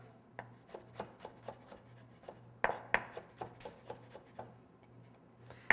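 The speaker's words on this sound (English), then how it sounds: "we chop the garlic up" A kitchen knife chops garlic cloves on a cutting board with a quiet, steady run of crisp taps, a few louder knocks, and a low hum in the background. Nobody talks.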